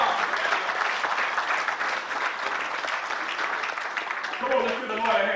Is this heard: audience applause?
yes